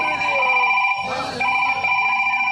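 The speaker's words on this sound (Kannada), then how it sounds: "ಡಾಕ್ಟರ್ಗೆ ಫೋನ್ ಮಾಡ್ತಾ ಇದ್ದೀನಿ" A telephone rings during a call to a doctor, a continuous electronic ringing tone held across the moment with a brief break, heard in a stage drama scene.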